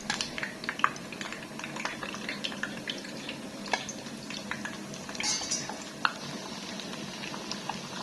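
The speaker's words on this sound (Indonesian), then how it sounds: "Aku mau goreng dulu, udah panas itu. Aku goreng satu dulu" Food fries in a hot pan, giving a continuous crackling sizzle with scattered pops and small clinks of utensils, close and steady throughout.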